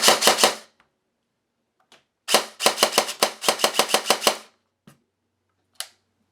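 A G&G airsoft gun fitted with a prototype orange base motor fires in semi-auto: a quick cluster of three sharp cracks, then a longer run of rapid snappy shots, followed by a few isolated single shots, close and crisp against silence.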